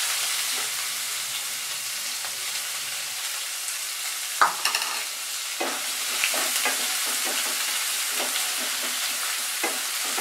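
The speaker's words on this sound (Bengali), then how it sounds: "পেঁয়াজটা কিন্তু আমি খুব বেশি ভাজবো না, হালকা গোল্ডেন ব্রাউন হওয়া অবধি আমি সুন্দর করে ভেজে নেব।" Spices and chopped onions frying in a pan: a constant bright sizzle with occasional soft taps and scrapes of a spatula stirring, steady and close throughout.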